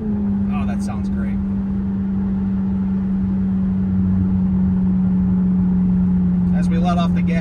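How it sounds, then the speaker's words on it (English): A 2007 Dodge Magnum SRT8 with 14k miles coasts off the throttle from high speed, heard from inside the cabin as a steady, loud, low engine drone that holds evenly before fading slightly near the end. "As we let off the gas from 100, you got some drone down to 80, then it really fizzles out under 80."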